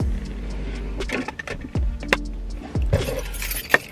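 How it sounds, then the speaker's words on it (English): Traffic on a busy main street beside a park: cars pass at close range, with low engine rumble and swelling tyre whooshes recurring every second or so, plus a few clinks and rattles nearby. "I'm right here by like a main street, so there's gonna be a lot of cars"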